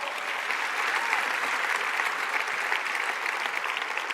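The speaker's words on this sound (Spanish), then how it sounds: "Dale fuerte el aplauso al Señor." Church congregation applauding at a Spanish-language worship service, a loud, sustained wash of clapping from a large crowd filling the hall.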